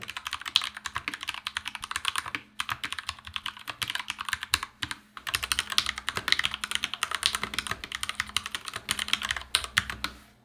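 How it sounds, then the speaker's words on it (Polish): Close, crisp typing on a Genesis Thor 660 G2 mechanical keyboard fitted with Gateron red linear and brown tactile switches: a busy run of keystrokes with two brief pauses, each press clicking distinctly. "Czerwone to switche liniowe o bardzo płynnej pracy, natomiast brązowe to przełączniki charakteryzujące się wyczuwalnym kliknięciem w momencie aktywacji."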